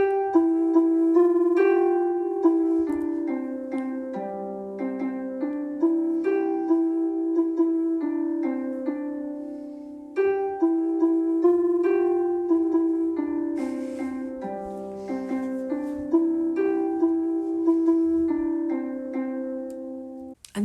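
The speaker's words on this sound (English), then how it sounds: "And now I have recorded that melody and I've put it into GarageBand and it sounds a bit like this." A simple melody first worked out on piano, recorded and played back through GarageBand, runs steadily for about twenty seconds with clear harmonic notes, a brief dip near the middle before the tune resumes; no voices.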